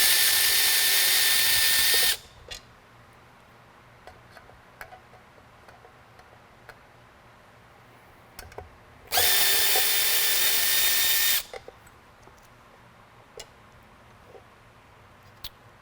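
A power tool whirs loudly in two separate bursts of about two seconds each while backing screws out of a Whelen L41 beacon, with light clicks and handling noises in between.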